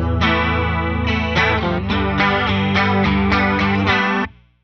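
Distorted electric guitar plays a pre-chorus riff, chorus-tinged chords struck in a steady rhythmic pattern, loud and close, ringing alone until an abrupt stop near the end.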